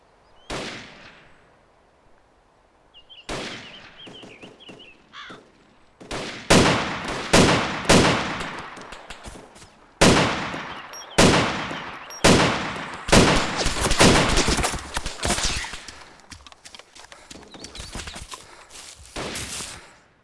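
Video game gunfire in a firefight at an MI-17 helicopter crash site: loud, close shots crack in quick single bursts and rapid volleys, with brief pauses between them and no talk.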